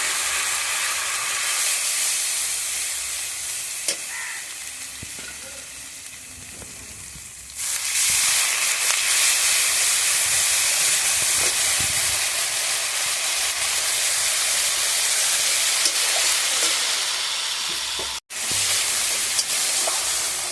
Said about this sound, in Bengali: এবার অল্প জল দিয়ে মশলাটা একটু কষিয়ে নিলাম।